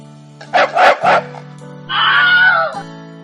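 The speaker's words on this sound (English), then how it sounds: "The dog barked at the ugly duckling" A dog gives three quick barks, then a longer whining howl, close by and loud over a steady low hum.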